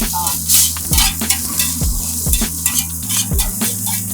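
Carrot, onion, chilli and capsicum stir-fried at a Kolkata-style street food stall, with loud, steady sizzling broken by sharp, repeated metal scrapes and clanks of the spatula against the pan, close and without voices.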